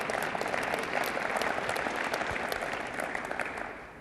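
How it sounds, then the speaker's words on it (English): An audience at a State of the City speech claps steadily for several seconds, a dense wash of applause that fades slightly toward the end. "If there's anywhere you're going to applaud in the speech, this is it."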